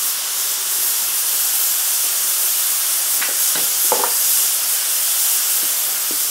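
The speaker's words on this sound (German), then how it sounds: "Während die Pilze jetzt gerade anbraten" Button mushrooms frying in a hot pan give off a steady, even hiss and sizzle throughout, with a few brief crackles and scrapes near the middle; no one talks.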